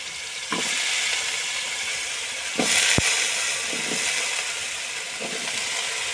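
Potatoes and garlic frying in a pan, with a steady close sizzle broken by a few scraping stirs of a large metal spatula; no voices.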